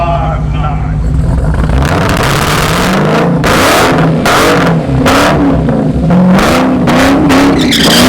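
A 1200-horsepower Dodge Hellcat roars at a drag strip, a loud, close engine revving hard with rising and falling pitch sweeps and rapid bursts, continuous throughout, with voices faintly underneath.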